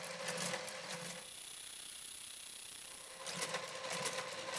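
A Brother KG-95 garter carriage runs along a Brother KH-950i knitting machine with a steady mechanical whirring hum that eases briefly in the middle before picking back up.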